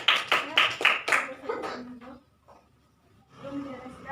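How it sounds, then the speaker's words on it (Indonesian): A classroom of students claps a short, quick run of roughly five hand claps close by. Scattered voices and murmuring follow. "Yang lainnya tepuk tangan."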